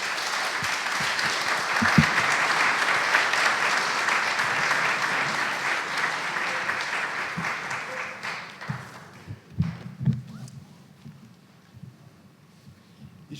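Audience applause for pastor Puyol at an Adventist theology symposium, a dense, sustained clapping from a sizeable crowd that thins out after about eight seconds into scattered claps and low room noise with murmured voices.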